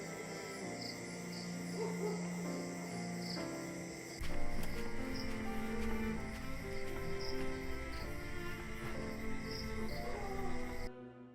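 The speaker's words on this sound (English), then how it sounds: "The night is calm, only broken by the distant cricket sound." Crickets chirping at night in a quiet village in Bangladesh, a steady layered trilling with a shift in texture midway before cutting off.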